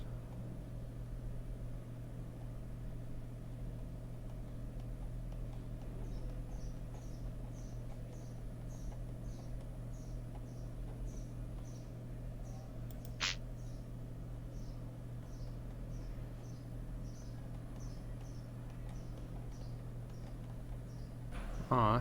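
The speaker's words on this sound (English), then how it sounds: "Just listen to those birds in the background." Small birds chirp outside in the background, a steady series of faint, rapid high chirps repeating across the clip over a constant low engine-like hum from a space game.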